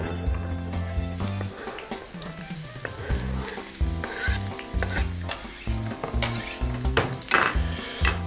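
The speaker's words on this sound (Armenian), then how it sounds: "սոխը տապակում ենք" Onion frying in a pan, loud close sizzling with repeated stirring and scraping of a utensil against the pan, no voices.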